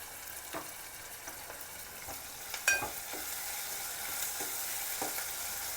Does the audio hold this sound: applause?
no